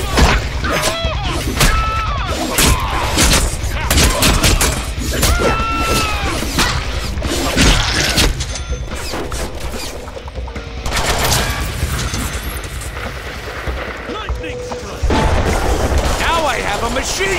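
A machine gun fires in the Deadpool video game, with loud, rapid bursts of gunfire mixed with booms and crashing impacts running almost continuously throughout.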